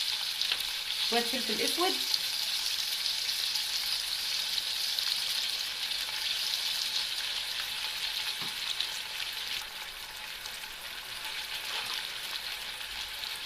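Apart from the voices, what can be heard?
heart pieces frying in oil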